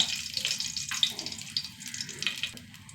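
Cloves, cardamom and a small piece of cinnamon sizzle in hot oil, a steady bright crackle and hiss with small pops, close and continuous throughout.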